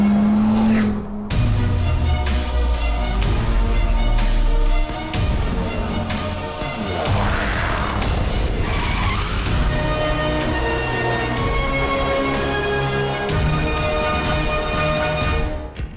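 A Dodge Viper's massive 8.4-litre V10 roars loudly, its engine note climbing through rising revs with tire squeal, a loud, sustained run close by with pitch shifts as it accelerates.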